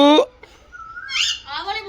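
A parrot at Neelon zoo in Punjab talks in short squawky, whistled bursts, a brief call followed by a rising mimicked phrase, close to the listener.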